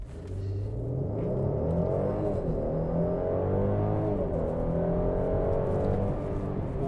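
A Mercedes C400 4MATIC launches from a standstill at full throttle in Sport Plus mode, the engine note rising through the gears in a steady climbing rumble heard from inside the cabin, with no talking.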